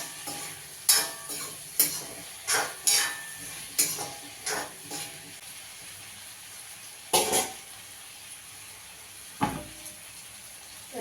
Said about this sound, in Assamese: আলু চব্জিখিনিতে মই মেগী মছলা 1 পেকেট দি দিছোঁ।